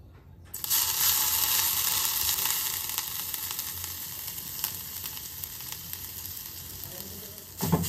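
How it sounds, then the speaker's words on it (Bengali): Grated carrots fry in ghee for carrot halwa with a loud, close, continuous sizzle that starts abruptly and settles slightly, with occasional stirring clicks. "একটু ভেজে নিয়ে ঘি দিয়ে দিয়েছি"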